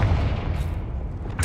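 Confringo blasting spell exploding in Hogwarts Legacy, a heavy booming blast with deep rumble that swells and tails off, followed by a second sharp burst at the end.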